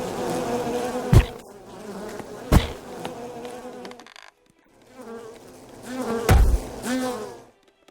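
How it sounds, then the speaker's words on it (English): Bees buzz in the video game UnExplored, a droning hum cut by several sharp thumps, briefly dropping out before the buzzing swells again and fades. "Oh no, bees. Not the bees."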